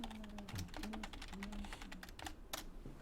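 Rapid, continuous typing on a computer keyboard, with close, crisp key clicks in an irregular stream over a low background hum.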